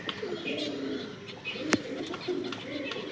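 Pigeons in a loft coo in a low, continuous murmur close by, with a sharp tap or click near the middle and faint higher chirps on top.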